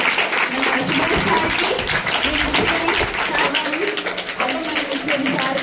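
A crowd of schoolchildren clapping at a National Sports Day celebration, heard as dense, sustained applause close by, with a voice talking over it.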